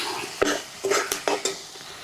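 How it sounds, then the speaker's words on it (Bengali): Spice mix of salt, dry chili powder, turmeric and tomato being stirred in a pan for a small desi crab curry, with a run of sharp, close scrapes and clinks of the spoon against the metal over a low sizzle. "এখন ভালো করে কষায় নিব মশলাটা।"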